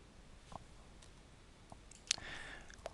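A computer mouse clicks while a WordPress page menu is used, with a few faint, separate clicks spread across a quiet room tone, one sharper click standing out near the end.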